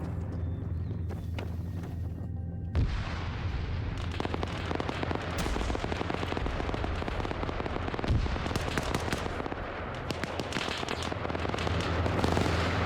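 Gunfire in a military video game set in Chernarus, an anti-tank rocket and PKM machine gun: a sharp blast followed by rapid, sustained bursts of heavy machine gun fire and scattered explosions.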